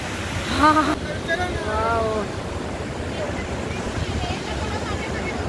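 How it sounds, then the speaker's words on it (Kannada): Jung waterfall, also called Rainbow waterfall, on the Dirang to Tawang route, sends down crashing water and spray. It makes a steady, broad roar throughout, with a voice speaking briefly near the start. "Jung water falls, rainbow water falls ಅಂತ ಕೂಡ ಹೇಳ್ತಾರಂತೆ"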